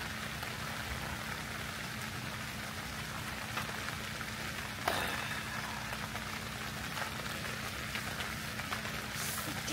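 Heavy, steady rain pours down at an open car campsite, a dense, even hiss of drops on surfaces with one brief louder splash midway.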